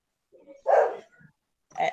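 A pet dog gives a few short, muffled barks and grunting yaps in a quiet room, fairly close, with silent gaps between them.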